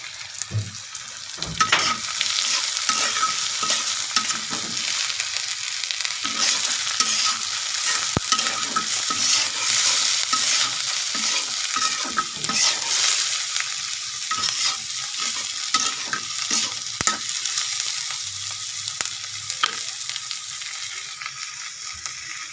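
Mixed vegetables with cabbage and chopped tomato fry in a pan, a long, bright sizzle with frequent spatula scrapes and clacks stirring them, close and continuous, easing slightly midway before resuming.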